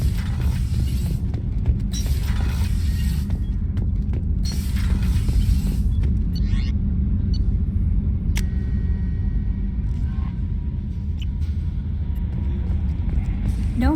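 A low, steady engine rumble fills a starship's engine room in Mass Effect 2, a constant deep drone layered with scattered mechanical clicks, creaks and ratcheting noises throughout.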